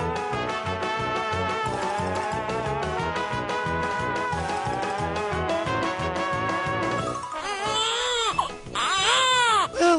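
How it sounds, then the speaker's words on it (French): Infant crying steadily and loudly for several seconds, with a close, continuous wail that breaks near the end into shorter sobs and whimpers. "On nous a rapporté qu'un bébé pleurait."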